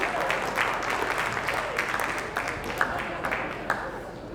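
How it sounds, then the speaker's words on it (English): Applause from a crowd at an outdoor gun auction at a freedom festival, a steady patter of clapping with a few sharper claps standing out, heard at moderate distance throughout. "Round of applause to the underbidders and the high bidders."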